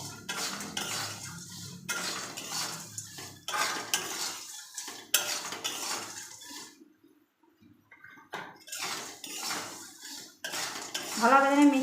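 Spoon scraping and clinking against a pan while fried peas are tossed with chili powder and salt for spicy matar bhaja, in repeated bursts of stirring with a short pause and a brief fuller clatter at the end.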